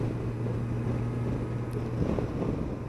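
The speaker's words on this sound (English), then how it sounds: "It's got a nice engine sound," Kawasaki Versys 1000 GT or Yamaha Tracer 900 GT engine droning steadily while riding, with a low, even hum beneath heavy wind rush on the microphone throughout.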